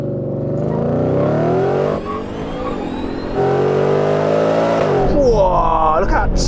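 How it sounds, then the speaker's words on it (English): A Tesla Cybertruck and an F-150 Raptor R accelerate hard in a drag race, with a loud engine rising through revs, a brief dip, then a strong surge and a sweeping whine near the end. "look at that Cybertruck take off"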